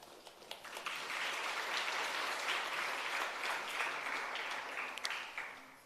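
An audience at a capacity-building workshop gives a round of applause, a continuous moderate patter of many hands that swells after the first second, holds steady, then tapers at the close.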